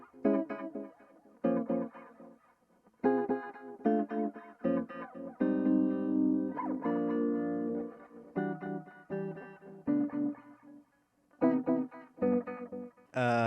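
A guitar runs through a harmonic tremolo effect on a PolyEffects Beebo pedal, with chords and notes that pulse and swell in rhythmic waves, separated by short gaps.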